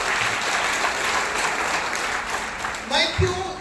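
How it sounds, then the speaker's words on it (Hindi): An audience at a motivational talk breaks into sustained applause, a dense wash of clapping throughout with swells near the end, while a voice can also be heard. "आप इसके लिए तालियां बजा सकते हैं।"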